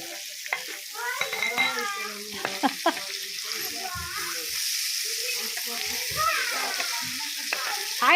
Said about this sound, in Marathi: तर हे असे मस्त नदीचे गावठी मासे असे फ्राय करायचे आहे